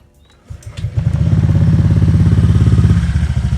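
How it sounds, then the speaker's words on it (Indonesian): A Vario motorcycle with a copy CMS exhaust and MDM Gen3 filter cranks and fires up, then settles into a steady, loud, throbbing idle close by. "gua starter motornya"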